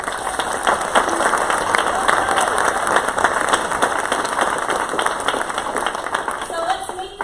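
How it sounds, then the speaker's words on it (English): Sustained applause from a large audience, dense steady clapping filling the room for several seconds without a break. "Let's give them a big round of applause."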